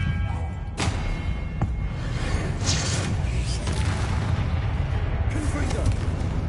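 In Hogwarts Legacy, an Expelliarmus spell fires during combat with a sharp whooshing burst followed by booming, rumbling impacts and layered effects. A voice shouts over the action.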